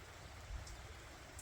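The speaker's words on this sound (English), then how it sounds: "it's starting to rain" Steady rain falls outdoors as a soft, even hiss with no voices.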